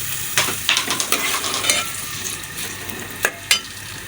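Onions fry in hot ghee at the start of a meat and pumpkin curry, a bright, close sizzle broken by several sharp spatula scrapes and knocks against the pan.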